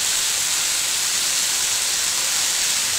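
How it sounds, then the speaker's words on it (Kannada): Chopped tomatoes tipped into a hot pan of softened onions frying with salt, giving a steady, loud, continuous sizzling hiss with no pauses and no talking. "ಈಗ ಟೊಮೊಟೊ ಕಟ್ ಮಾಡಿರೋದು ಹಾಕ್ಕೊಳ್ಳೋಣ."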